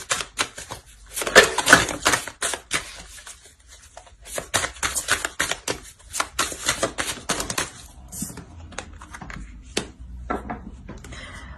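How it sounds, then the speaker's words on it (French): Tarot cards handled, shuffled and drawn at close range: dense bursts of crisp papery flicks and taps, then sparser clicks, with no talking. "On va ajouter une carte"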